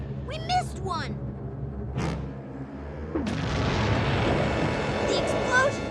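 Cartoon explosion from an animated underwater adventure: a broad roaring burst at about three seconds that keeps rumbling, following cartoon voices and a short whoosh.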